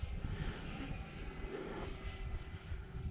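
A Draco model airplane's engine drones steadily during takeoff on a gusty day, a constant buzzing hum with some wind noise, heard at moderate distance.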